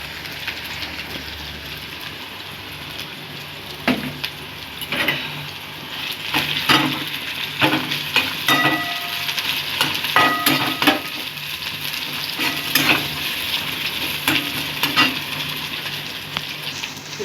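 Chopped onion sizzling in hot oil in a pan, a steady crackling fry with frequent scraping and clattering of a spoon as it is stirred, close and loud with no talking.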